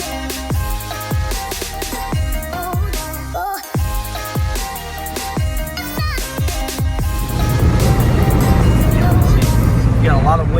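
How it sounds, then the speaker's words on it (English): Steady broadband roar of wind rushing past inside a moving Miata, leaking through worn door seals, swelling louder in the second half, with rhythmic engine and road noise underneath. "A lot of wind noise coming in the car from these seals."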